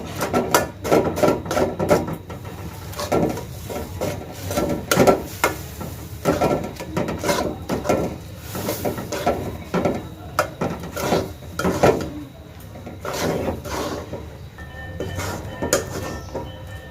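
Sesame seeds stirred into melted jaggery in a pot for nadu sweets: repeated scraping and clinking of a spoon against the pot, close and fairly loud, in an uneven steady rhythm with no talking.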